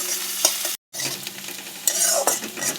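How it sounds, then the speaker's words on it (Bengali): Finely chopped onion and green chili frying in a pan while being stirred, close sizzling with scraping spoon strokes and a short cut in the sound partway through. "দিয়ে দেবো ছোট ছোট করে কাটা পেঁয়াজ আর একটা লঙ্কা।"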